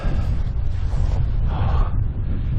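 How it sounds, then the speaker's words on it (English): Steady wind buffeting an exposed chalk clifftop on the coast, a continuous low rumbling roar of gusts hitting the microphone throughout, loud and unbroken with no voices. "it's windy"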